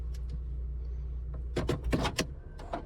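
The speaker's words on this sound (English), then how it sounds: "all the doors should unlock." A Honda Civic's power door locks unlock automatically: a quick cluster of sharp mechanical clunks and thuds from the doors over a low idling engine hum inside the car.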